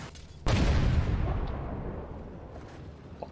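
An explosive strikes a tank in the armored combat video game Armored Warfare, one sudden loud close boom with a long rumbling decay that fades over about three seconds.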